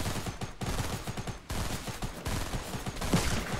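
Dense, continuous gunfire from a Fortnite match, overlapping bursts and rapid shots filling the whole stretch with only brief drops, loud and close with no talk.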